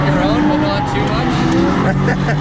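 Supercharged B230-powered Volvo 740 turbo drift car with a manual gearbox, its engine droning steadily and loudly from the driver's seat, with a brief tire squeal and people talking over the engine throughout.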